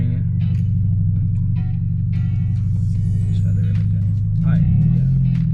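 A car's engine idles low and steady as a driver is taught to pull away in first gear using a racing clutch, and the revs rise near the end while people talk over it.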